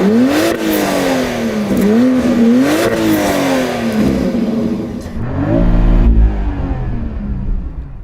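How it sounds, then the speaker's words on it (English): A BMW X3 with a 3-liter B58 engine revved with the windows down, several rising and falling blips of a smooth, mid-pitched engine note, loud and close, then a deeper throaty swell toward the end. "So I'm going to rev up my BMW."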